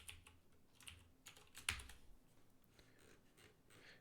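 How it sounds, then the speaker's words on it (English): Someone typing code on a computer keyboard, an irregular run of quiet key clicks with one sharper louder keystroke partway through, close but faint in a quiet room. "I started typing some code"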